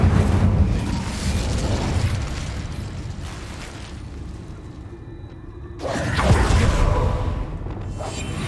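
An Incendio fire spell is cast in Hogwarts Legacy, with a loud broadband whooshing burst of flame that roars, fades into a lower rumbling bed, then flares again in a second bright burst near the end.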